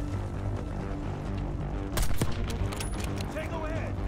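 Call of Duty: Black Ops 6 battle: constant gunfire and rumbling explosions, with a louder burst of blasts about halfway through, mixed under radio-style voices and a dense combat soundscape.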